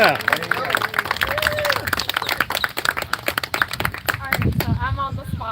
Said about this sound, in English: So everybody give an applause for Accurate Amanda